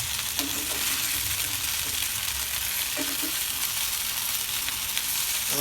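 Chicken starter pieces frying in a pan just after being flipped, giving a constant hissing sizzle with a few faint spatula taps, moderately loud and close, with no talking.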